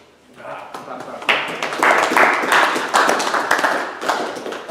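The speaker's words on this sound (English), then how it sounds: "We can clap again." Audience clapping at a woodturners' club meeting, a smattering of hands that swells into steady group applause and carries on for several seconds, with voices mixed in.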